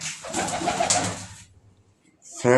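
Pigeons kept for flying competition coo in low, throaty bursts at close range during the first second and a half, followed by a pause and another short coo at the end.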